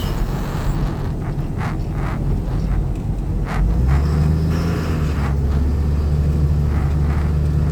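A car drives into a parking lot and turns around, its engine a close, steady rumble that deepens and grows heavier partway through the manoeuvre. No one talks.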